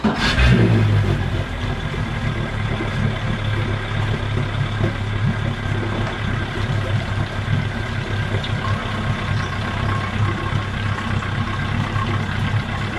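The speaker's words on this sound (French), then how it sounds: "On va aller allumer le moteur et je vous laisse regarder ce que ça va donner." Boat outboard motor running with its leg in a water-filled rinse barrel, starting with a brief burst and then settling into a steady, loud, continuous drone close by, with no talk.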